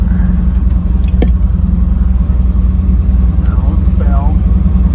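An old square-body farm truck drives out across a back field, its engine giving a steady, loud, unbroken rumble throughout, with a faint voice briefly heard over it.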